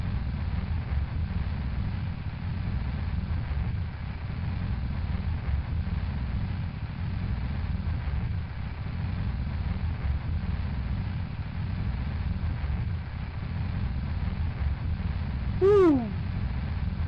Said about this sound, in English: They are some loud, loud engines.